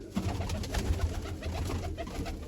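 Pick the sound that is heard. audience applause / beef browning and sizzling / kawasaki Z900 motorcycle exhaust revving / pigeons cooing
pigeons cooing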